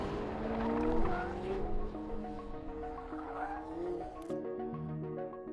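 A McLaren 750S brakes hard from high speed, the engine note sweeping downward with a tyre squeal and road roar, loud and close throughout.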